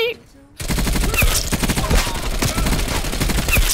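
Bullfrog submachine gun fire in Call of Duty: Black Ops Cold War: after a brief quiet start, loud rapid automatic bursts crackle almost continuously, with sharp repeated shots close up and no talk.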